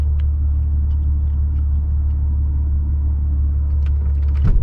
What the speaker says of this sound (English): we're gonna wait for this car to pass